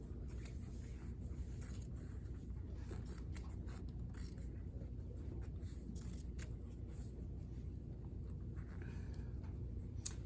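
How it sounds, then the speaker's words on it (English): Scissors snip steadily through excess fabric while trimming a garment to line up with a waist seam, a close, continuous crisp cutting and rustling with no talk. "you cut away the excess so that this is lining up with your waist seam"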